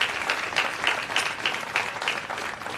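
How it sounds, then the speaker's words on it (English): Crowd at a Democratic county chairs' brunch applauding themselves, a brisk, even stream of clapping with rhythmic surges, moderately loud and continuous throughout. "Give yourselves a round of applause for that."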